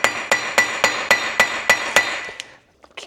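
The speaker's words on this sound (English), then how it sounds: "put the big axle nut on there and just give it taps with the hammer." A hammer tapping a large axle nut threaded onto a Range Rover rear hub during a wheel bearing replacement gives eight evenly spaced, sharp metallic strikes that ring briefly, then stop, leaving a few faint clicks.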